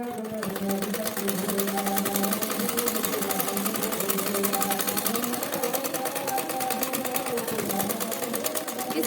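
Close, steady whir of a sewing machine stitching the sleeve seam of a plain blouse, running nonstop with a fast mechanical rattle and no pauses.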